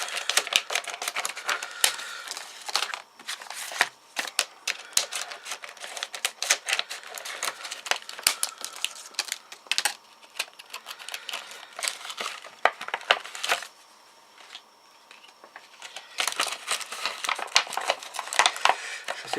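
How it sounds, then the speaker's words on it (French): Close crinkling and tearing of plastic wrapping and heavy tape while opening sealed trading card booster packs, a steady run of sharp crackles and snaps with short quieter pauses, no voices. "Donc je vais ouvrir les 3 paquets."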